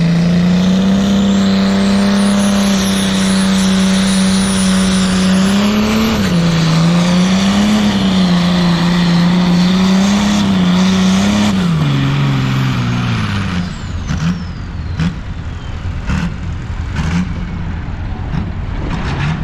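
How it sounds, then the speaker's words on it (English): Loud, roaring engine drone of pulling tractors at a truck show in Pembrey, Wales, the pitch wavering and straining before dropping away, with rough rumbling and clatter toward the end. "Oh, tractor pullers."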